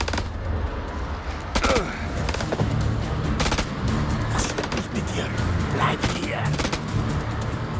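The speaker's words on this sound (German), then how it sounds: "Schuss!" Gunfire from the video game House of Ashes crackles through a dense, busy game soundtrack, with repeated sharp shots and bursts scattered across the clip amid rumbling background noise.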